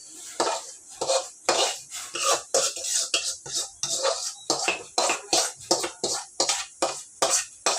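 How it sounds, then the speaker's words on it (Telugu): Upma semolina is added to ghee and stirred in a pan, giving steady, rhythmic scraping and clinking of a spoon against metal. It repeats about once a second, close and fairly loud, with no talking. "ఇప్పుడు ఉప్మా రవ్వ వేసేస్తున్నా"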